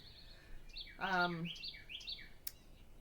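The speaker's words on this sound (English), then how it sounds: "the birds are just like going crazy today" Wild birds chirp at an outdoor bird seed feeder on a fine day with quick, repeated high tweets spread across the moment, faint against the background, while a person briefly makes a short vocal sound in the middle.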